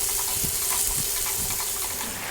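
Chopped onions with salt sizzle steadily in a hot pan for a potato curry, a constant close frying hiss broken by a few soft thumps and scrapes of stirring.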